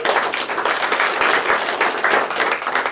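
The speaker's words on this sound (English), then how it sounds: "let's give him a big round of applause" Steady, dense applause from a sizable audience at a dental implantology academy event, many hands clapping continuously and fairly loud throughout, with no one speaking.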